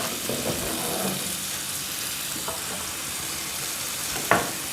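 Ingredients sautéing in a frying pan, a steady close sizzle running throughout with faint intermittent stirring scrapes and one sharper clatter near the end.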